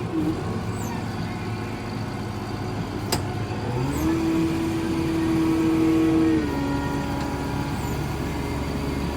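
A tractor engine held at maximum RPM on the foot throttle, a loud steady drone that climbs in pitch partway through, holds high, then eases slightly.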